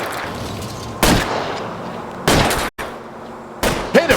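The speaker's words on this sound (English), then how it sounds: "I'll try to shoot out his tires." Gunshots fired at a fleeing car's tires in the video game L.A. Noire: three or four loud, sharp reports spaced over a few seconds, with a brief dropout and a quick double shot near the end, over steady engine and road noise.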